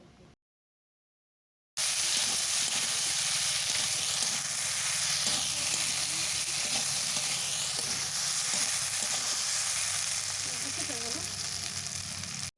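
Paste of green chili and ground white mustard and cumin sizzling hard in hot oil while being stirred, a loud steady hiss and crackle that begins abruptly after a short silent gap and continues unbroken.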